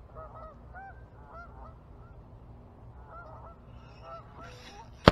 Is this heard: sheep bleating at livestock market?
no